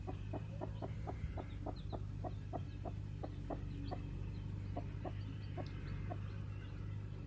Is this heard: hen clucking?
yes